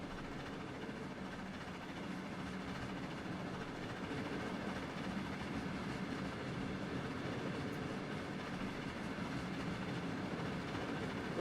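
A lone train on the Pigtail line in Trainz Simulator 3 rolls steadily along the rails, a dense, continuous rumble with faint wheel clatter that stays loud and even throughout, with no voices.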